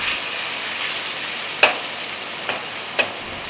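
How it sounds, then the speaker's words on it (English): Sliced beef stir-frying in a hot wok with ginger and scallion, a steady close sizzle broken by a few sharp scrapes and clinks of the spatula as the meat is flipped. "Turn up the heat a bit, stir and flip the beef quickly to avoid sticking on the surface"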